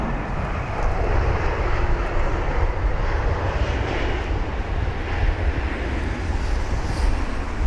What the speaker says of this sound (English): You can see definitely struggling to get the aircraft down.